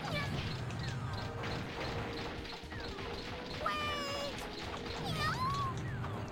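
Cartoon cats meow repeatedly in the Tail Concerto video game, several rising and falling cries over busy game music and sound effects, with crashes and clanks around them.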